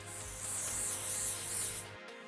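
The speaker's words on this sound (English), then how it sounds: "just give it a quick spritz with some hairspray" Hairspray sprayed onto hair while styling a French twist: a single steady aerosol hiss lasting under two seconds, close and fairly soft, ending abruptly.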